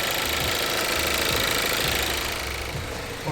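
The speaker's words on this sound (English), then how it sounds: "now I'm running the engine" A VW Golf GTE MK7 engine runs steadily to warm its oil, lifted on a jack with the under tray removed, giving a loud, close, continuous mechanical drone with a faint rhythmic knock and no talk.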